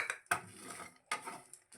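Poppy seeds and dry coconut being dry-roasted in a pan for a fish fry masala, heard as two sharp metallic scrapes of a spoon against the pan with soft rattling between, close and moderately loud, no voices.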